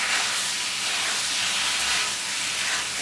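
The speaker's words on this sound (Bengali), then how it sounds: "সবকিছু দেওয়ার পর মশলাটার সাথে আলুটা ভালো করে কষিয়ে নিতে হবে" Potatoes fry with ginger-cumin paste in a pan, giving a loud, dense, continuous sizzling hiss close by with no pauses.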